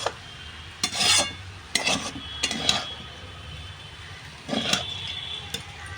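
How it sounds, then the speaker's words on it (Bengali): Chicken chow mein with purple cauliflower stirred in a pan, with several bursts of scraping and tossing at an uneven rhythm over a soft sizzle. "এবার একটু নাড়াচাড়া করে আমি এটাকে নামিয়ে নেব"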